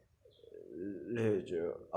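A city pigeon coos, a low rising and falling throaty call heard close and fairly loud, ending with a brief second note.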